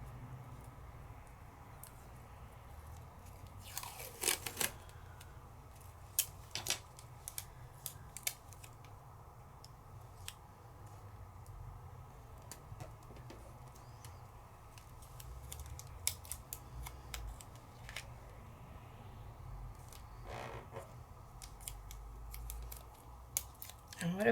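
Scissors snip through stencilled paper pieces in repeated short cuts, with quiet gaps and a low room hum underneath, and no talking.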